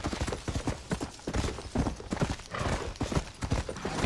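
A donkey in Red Dead Redemption gallops off with a quick, steady clip-clop of hooves, fairly close and loud, continuing without a break and with no talking over it.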